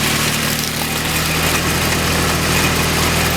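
A Darley AGE pump engine runs flat out at maximum RPM during a free-flow test, a loud, steady, close drone with no change in pitch and no voices over it.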